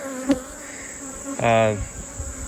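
Honeybees pour out of a hive during a nectar dearth, their buzzing forming a close, continuous drone, with a single bee zipping loudly past the microphone midway.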